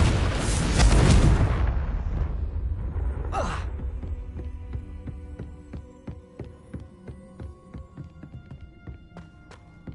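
A Confringo spell bursts in Hogwarts Legacy with a loud, close fiery blast that rolls into a long rumbling decay, followed by a quieter whoosh and a faint scattering of small ticks and chimes.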